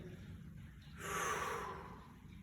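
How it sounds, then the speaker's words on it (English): A single slow, audible breath, drawn in or let out as part of a warm-up breathing exercise, rises and fades over about a second against a quiet background. "it's just a few rounds of breath"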